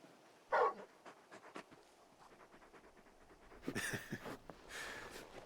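The giant hound companion in the video game Final Fantasy XVI pants softly with rapid breathy puffs, joined by a few small whimpers and quiet movement sounds, close and fairly faint with no talk.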